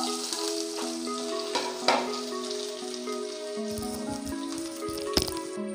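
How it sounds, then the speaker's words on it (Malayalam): Cumin, dried red chilli, onion, green chilli and curry leaves fry in hot oil with a steady, close crackling sizzle. Occasional sharper pops break through, and soft sustained tones run in the background. "ജീരകം പൊട്ടിച്ച് വറ്റൽമുളകും ഉള്ളിയും പച്ചമുളകും കറിവേപ്പിലയും ഇട്ട് മൂത്തിട്ടുണ്ട്"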